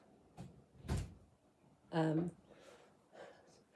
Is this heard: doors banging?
yes